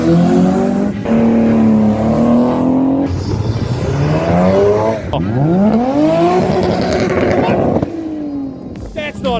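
Ford Mustang at a South African car meet revs hard and slides, with engine notes rising and falling repeatedly and tires squealing, loud and close, with crowd voices mixed in.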